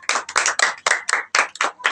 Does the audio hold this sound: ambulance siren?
no